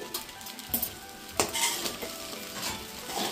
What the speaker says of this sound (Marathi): अगोदर साबुदाणा चांगलं परतून घेईन